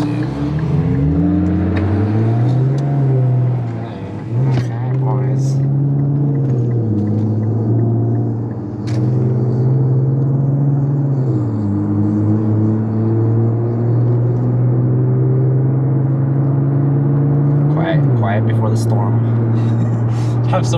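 A Porsche 911 Turbo fitted with an aftermarket exhaust idles loudly and nearby, rising in several revs and settling back to a deep steady rumble, while people talk over it.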